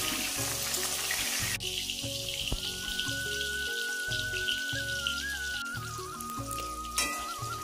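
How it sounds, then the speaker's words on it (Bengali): Potatoes fry in the same oil just used for browning boiled eggs. A continuous, rain-like sizzle with scattered pops holds steady, with a soft tonal background beneath and no one speaking. "ওই তেলের মধ্যেই আলুগুলো ভেজে নেবো"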